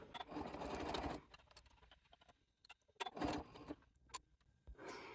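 A sewing machine runs in short bursts as it stitches along the edge of a piece of cross stitch, with quiet pauses and faint clicks between the runs, near and moderately quiet.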